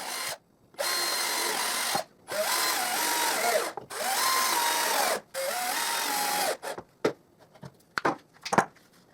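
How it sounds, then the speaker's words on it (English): Close, loud whine of a power drill boring guide holes through a wooden strip into plywood, four bursts with short gaps, followed by light clicks and handling taps. "I drill guide holes and I screw the strip to the piece of plywood."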